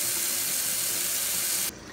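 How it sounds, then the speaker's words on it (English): Hot water running full from a household faucet into a sink, a steady broadband gush that cuts off abruptly near the end, leaving quieter room tone. "we'll start the clock as soon as the hot water is turned on full"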